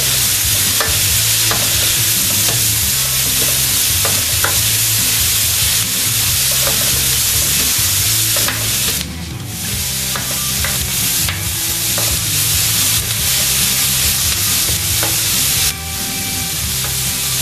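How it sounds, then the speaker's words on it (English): Carrot and celery frying in a pan while being stirred, a loud steady sizzle with repeated scraping and clacking of the spatula throughout. "next we've got the carrot and the celery. Chuck that in. There we go. Get that a stir."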